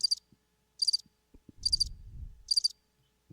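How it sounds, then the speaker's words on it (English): Crickets chirping as a sound effect: short, bright trills repeating at regular intervals about every 0.8 seconds, with a brief low rumble in the middle. "I thought it sounded like crickets too."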